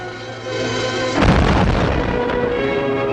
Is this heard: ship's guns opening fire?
yes